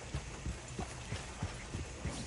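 Horse-drawn coach hooves clip-clopping in Red Dead Redemption 2, a steady rhythm of about seven thudding hoofbeats at moderate distance with no voices.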